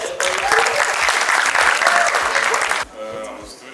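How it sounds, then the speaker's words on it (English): Audience clapping for a student at a university cybersecurity school event, loud dense applause from a roomful of people lasting nearly three seconds before cutting off abruptly, with faint voices underneath. "Come on, let's clap for you."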